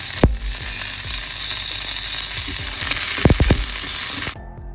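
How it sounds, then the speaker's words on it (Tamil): Mustard seeds and cumin sizzle in hot oil, a loud, steady frying hiss up close with a few sharp pops and clinks, cutting off abruptly near the end. "கடுகு போட்டுட்டு கொஞ்சம் சின்ன சீரகம் சேர்க்குறேன்"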